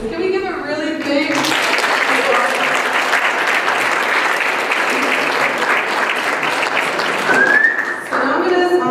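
Audience at a student executive election speakers night bursts into loud sustained applause with a whistle near the end, preceded and followed by a voice talking.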